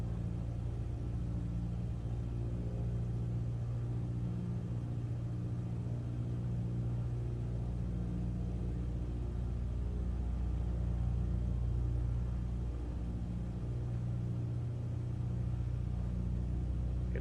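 A steady, droning aircraft engine rumble in Microsoft Flight Simulator 2024 holds with RPM slowly rising. The tone is low and continuous and stays unbroken, with no talking.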